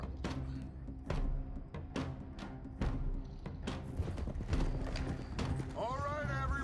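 Horses' hooves clip-clop in a steady, overlapping rhythm as several riders move together in Red Dead Redemption 2, loud and close, with a brief whinny near the end and voices talking over the hoofbeats.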